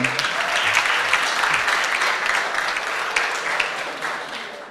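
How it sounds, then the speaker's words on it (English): Steady audience applause for award recipients collecting plaques on stage at a science and technology innovation challenge closing ceremony, dense and sustained throughout, easing slightly near the end. "Please, a round of applause for them."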